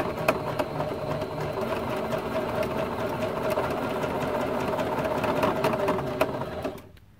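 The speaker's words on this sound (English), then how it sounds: "We are going to sew beyond where we started a few stitches." Sewing machine stitching black and yellow T-shirt quilt blocks together, a steady close mechanical whir with rapid needle clatter running unbroken for several seconds before cutting off at the end.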